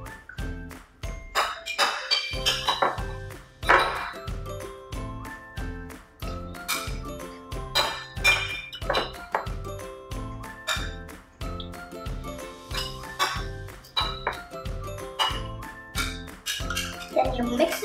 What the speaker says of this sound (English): Then you mix it all together until there's no jam.